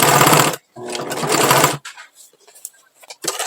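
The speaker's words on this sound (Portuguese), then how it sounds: "Agora eu venho costurando aqui." A sewing machine stitches through a scrap-fabric rag rug in two loud, steady runs with a short pause between them, followed by quieter handling clatter and a brief restart at the end.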